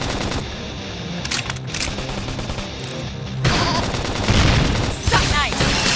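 Gunfire in the video game Xenoblade Chronicles X, rapid automatic bursts and booms under game music, turning louder and denser in the second half, with voices calling out over the action.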